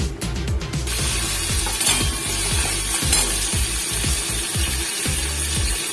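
Radish pieces frying in a pan with a little salt: a dense, close sizzle over a rapid, repeating ratchet-like scraping and clicking that continues throughout.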